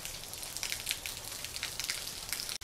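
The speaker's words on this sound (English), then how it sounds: "So, yeah, it's raining." Steady rain falling outdoors, a dense, continuous hiss of drops hitting surfaces, fairly close and even throughout with no voices.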